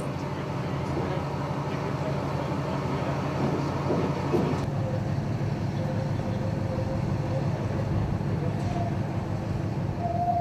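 A train moves through a town in the Andes with a steady, loud rumble of rolling wheels and faint squeals, with no talk.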